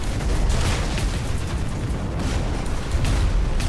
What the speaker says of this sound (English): a bombing run, definitely.